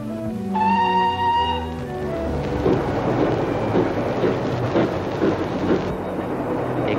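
A horn sounds briefly, then a steady rumbling roar follows as a train rolls past, loud and continuous without pause.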